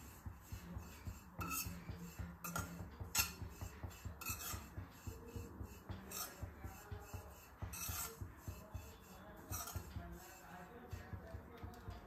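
Metal utensils clink and scrape against a pan as dried coconut is roasted, a steady run of close, quiet rattles and taps with no talking.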